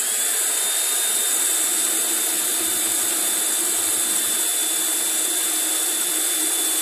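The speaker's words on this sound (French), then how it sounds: "avec une mèche on va venir creuser la face" A power drill bores into wood with a bit while building Dadant beehives, giving a loud, steady, high motor whine that holds at an even pitch for the whole stretch, close up and with no voices.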